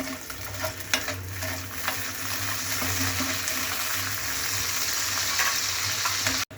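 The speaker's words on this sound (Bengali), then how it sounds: "আর দিয়ে দিলাম কাজু বাদাম, সাথে দিয়ে দিলাম কিশমিশ। এগুলিকে আমি ভালোভাবে ভেজে নেব।" Cashews and raisins fry in ghee for a sweet vermicelli dish, giving a steady close sizzle with stirring scrapes throughout. The frying cuts off abruptly at the end.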